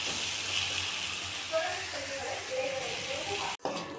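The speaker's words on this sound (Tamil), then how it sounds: "இந்த மாதிரி சிறு தீயிலேயே வச்சு நம்ம வறுத்துக்கலாம்." Dried fish (karuvadu) and onions frying over a low flame, a steady soft sizzle with occasional stirring noises, and a brief clatter near the end.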